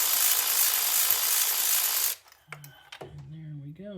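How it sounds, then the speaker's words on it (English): A cordless ratchet whirs steadily for about two seconds on a 2005 Ford Freestyle engine, then stops, followed by a few faint clicks and a brief human vocal sound. "I got my trusty cordless ratchet."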